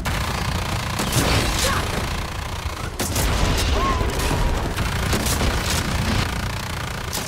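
Sustained automatic gunfire in the video game Evolve Stage 2, a dense, loud rattle of shots with a sharp burst near the middle and no gaps.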